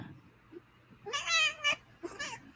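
A cat meows twice, a long drawn-out meow followed by a shorter one, close by over faint room noise.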